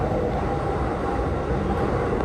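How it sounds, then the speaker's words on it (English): A train runs after a tsunami warning with a continuous loud rumble and rattle of wheels on track, steady and close, with no voices. "I think this train is running."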